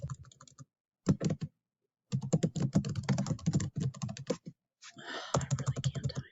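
Close computer keyboard typing in bursts of rapid clicks separated by short pauses, with no speech over it.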